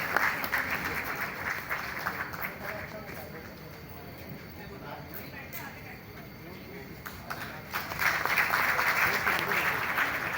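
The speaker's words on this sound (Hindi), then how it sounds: "बहुत सारी तालियां" An audience applauds after a Sindhi play at the Awami Theatre Festival 2024 at the Arts Council in Karachi. Dense, continuous clapping fills the hall at moderate volume, dips briefly midway, then swells again near the end.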